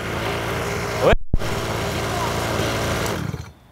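A small motorbike engine idles steadily with a buzzing rattle while voices talk over it; a brief drop interrupts it early on.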